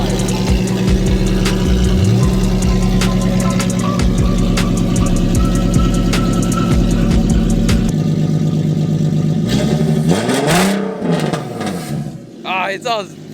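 A car fitted with a loud Tomei Ti titanium exhaust idles with a deep, lumpy, tractor-like rumble, then gives a few short revs near the end.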